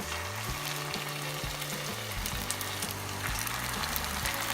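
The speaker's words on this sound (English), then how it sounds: "So we'll fry the lumpia until they're golden brown on the outside." Lumpia deep frying in hot oil, a steady dense sizzle with crackling bubbles running throughout, loud and close, with faint low clinks and tonal hums underneath and no voices.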